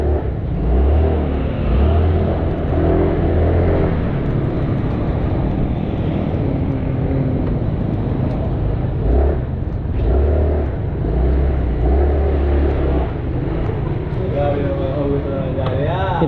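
A Suzuki Sparkle 150i scooter engine hums and revs in traffic, a continuous close drone rising and falling across the stretch, with someone talking over it much of the time.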